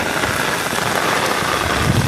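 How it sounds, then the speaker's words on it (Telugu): Heavy monsoon rain pours down in a dense, loud, continuous hiss and patter, close and unbroken, with no voices. "ఫుల్ వర్షం పడుతున్నాయి"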